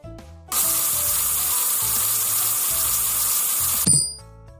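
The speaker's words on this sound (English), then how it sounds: "Use the fruit spray." Fruit spray in a hippo dentist video game: a steady, loud hissing spray that starts abruptly, holds for about three seconds and cuts off, with soft game music underneath.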